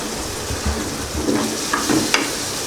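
Garlic sizzles and crackles in hot oil, a steady frying hiss with a few light clinks and stirs, no talking.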